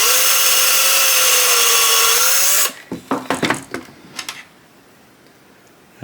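A 2.5mm drill bit bores into HIPS plastic with a loud steady whine, then the motor stops and a few short scraping and clicking handling sounds follow in a quieter space.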